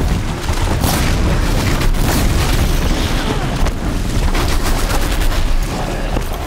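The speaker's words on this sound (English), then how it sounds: "There goes the explosion." Loud explosion and gunfire-like booms in the Horizon Zero Dawn video game, The Frozen Wilds expansion, forming a dense, sustained roar of blasts across the whole stretch with faint talk underneath.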